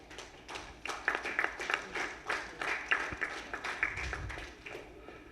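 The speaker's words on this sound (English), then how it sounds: "Let us have a big applause" A small crowd at the evening celebration of an aluminium MSME conclave in Chennai applauds in sparse, uneven bursts of clapping, fairly quiet and somewhat distant over roughly five seconds.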